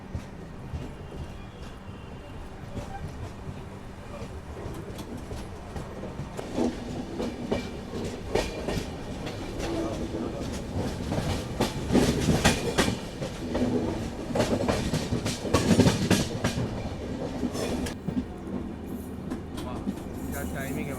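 The Maharashtra Express pulls out of a station, heard from on board as a continuous rumble with clickety-clack of wheels over rail joints that grows louder and busier as it gains speed.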